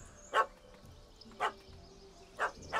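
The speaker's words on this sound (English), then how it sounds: "Don't know how to handle yappy little dogs?" A yappy little dog in The Witcher 3 barks three times, short sharp yaps at steady one-second intervals over quiet background ambience.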